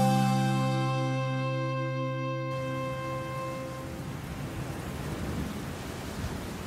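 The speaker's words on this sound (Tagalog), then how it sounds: "Inabutan ka na ng ulan." Steady heavy rain with a low thunder rumble, a broad continuous wash that swells in after a fading musical tone.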